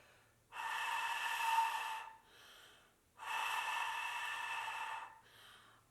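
Two long, breathy rushes of air with no clear pitch, each followed by a softer, hissing tail, from breath blown straight across a flute headjoint without producing a note.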